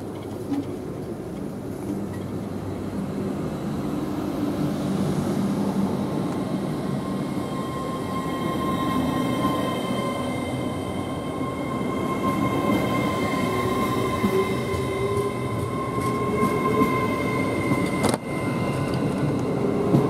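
A GWR Class 800 train rumbles steadily past at close range through Swindon station, wheels clattering on the rails with a faint high squeal, loud and continuous with no voices.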